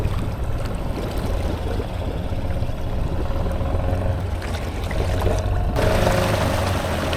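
A Honda 300 Fourtrax ATV idles steadily while wading through swamp water, its low engine rumble mixed with the sound of splashing and flowing water, with no talk.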